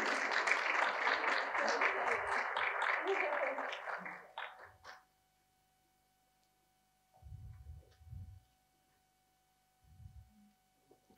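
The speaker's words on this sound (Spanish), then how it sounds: "Un fuerte aplauso para Ángela" Audience applause at a book launch, a dense burst of clapping for about four seconds that cuts off abruptly, followed by near silence with a few faint low thumps and murmurs.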